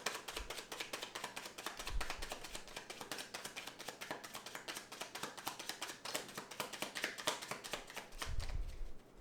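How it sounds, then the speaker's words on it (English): Tarot cards are shuffled by hand in a rapid run of soft, crisp riffling taps that continue through the whole stretch at close range, with a few low thumps mixed in. "One more. Shuffle here."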